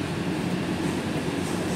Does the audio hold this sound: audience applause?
no